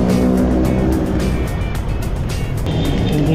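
Morning road traffic in Bacoor, Philippines, passes a cyclist riding near Barangay Dongalo: a loud, continuous roar of engines and tires, with vehicles sweeping past close by one after another.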